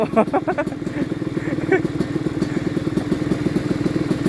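A motorcycle engine throbs loud and close with a rapid, steady putter and occasional clattering thumps as the rider lifts the front wheel, with a voice speaking over it at the start.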